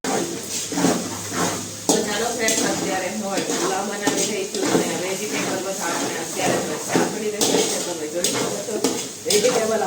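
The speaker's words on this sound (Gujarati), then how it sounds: "તો ચાલો ફટાફટ આપણે ટમેટાની ગ્રેવી કરીએ અને પુલાવની તૈયારી કરીએ વઘારવાની" Tomato gravy for pulao sizzles in a pan while a spoon stirs and scrapes it in repeated strokes. The cooking sounds are close and fairly loud, and someone talks over them the whole time.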